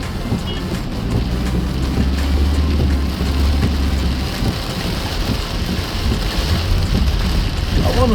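Heavy January rainstorm in Monrovia, Liberia, a loud continuous hiss of rain pouring on surfaces with a low rumbling undertone, steady throughout with no speech.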